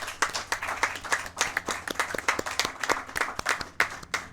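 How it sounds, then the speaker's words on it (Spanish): A church congregation claps, a smaller group producing distinct, fairly rhythmic bursts of hand claps that rise and fall in quick succession, moderately close. "dele un fuerte aplauso fuerte al Señor"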